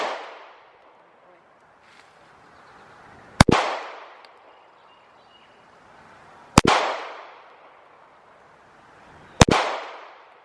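Three sharp handgun shots at an outdoor shooting range, fired slowly about three seconds apart, each a loud crack followed by a long fading echo, with quiet background between.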